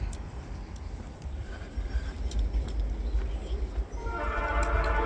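Steady low rumble of a passing train near Appalachian Trail tracks, with broadband rattling noise building slightly louder; a faint tonal horn-like hum rises near the end.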